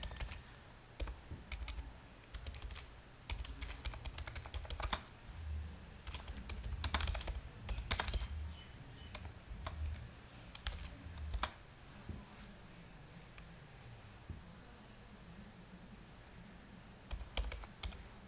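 C# code being typed on a computer keyboard: a continuous, close patter of key clicks in uneven bursts with brief pauses, quiet and without talk.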